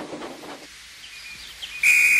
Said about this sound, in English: Oh, that's my conductor's whistle.